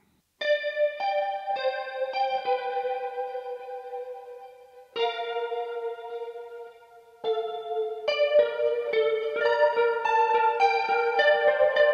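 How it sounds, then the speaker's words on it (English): Electric guitar chords and arpeggiated notes, played through Big Sky reverb and rotary pedals, ring out with lush, swirling reverb and a warbling rotary modulation, sustaining smoothly between phrases. "we tracked through his Big Sky or Blue Sky pedal, really, really nice reverb pedal, and a rotary pedal"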